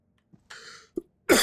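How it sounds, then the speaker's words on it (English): Dry coughs from a person in an apartment building, a few short separate bursts: a faint hack, a longer rasping one, then a louder, sharper final cough, close and with no talk. "have this really weird dry cough I'm dealing with"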